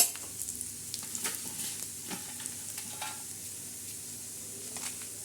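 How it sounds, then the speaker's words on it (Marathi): Soft, steady sizzling of red chillies roasting on a griddle, with occasional light scrapes and crackles, fairly quiet and close by, no voices. "मिरच्या बी चांगल्या भाजून घ्यायच्या"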